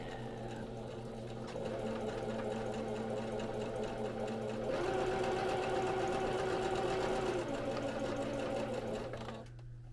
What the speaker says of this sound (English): I'm going to try and stitch right along the edge there